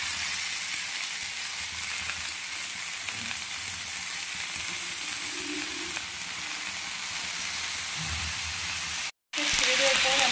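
Greens hit a pan of frying eggplant with garlic, salt and turmeric, giving a constant hiss and sizzle with faint stirring, briefly cut off near the end before the frying resumes louder.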